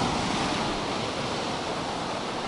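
Ocean waves wash continuously at a beach club in Marbella, a dense, steady roar of surf with a little wind, heard alone without talking.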